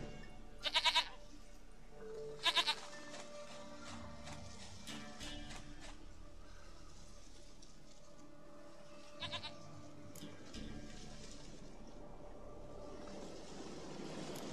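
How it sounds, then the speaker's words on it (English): Goat bleats in The Witcher 3 game world: two distinct close bleats early, then a fainter one later, over a steady ambient game background with no talking. "Goat of mine, dearest, sweetest goat."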